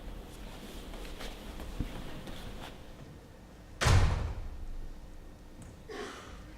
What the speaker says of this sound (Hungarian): Most kimegyek ezen az ajtón,